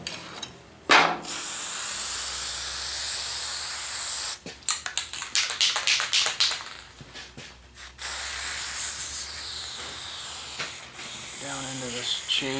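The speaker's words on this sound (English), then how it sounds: "Let me grab some spray." Aerosol spray can hissing during chain maintenance on a sweeper, with several long steady sprays broken by a burst of short rapid spurts and clicks, loud and close, amid faint workshop rustling.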